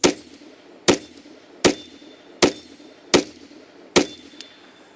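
Six evenly spaced pistol shots from a Staccato 2011 C2 Duo ring out at steel targets, each a sharp crack with a metallic clang, roughly one every 0.75 seconds, close and loud with a steady hiss between.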